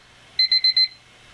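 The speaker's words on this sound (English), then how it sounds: "All right, the timer." A timer alarm rings in a quick burst of four sharp, high electronic beeps, close and clear in a quiet room.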